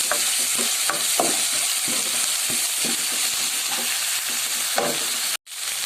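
Garlic and ginger with spices fry in a pan, giving a steady, close sizzle throughout with repeated scraping strokes of stirring, until a short break near the end before the sizzle resumes.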